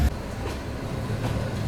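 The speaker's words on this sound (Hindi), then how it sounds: "यहाँ प्लेटफॉर्म नंबर 5 पे खड़ी है नीलांचल सुपरफास्ट एक्सप्रेस" A train at Kashi railway station rumbles past in a low, continuous roll with soft rail clatter and a couple of faint thumps, steady and moderately loud.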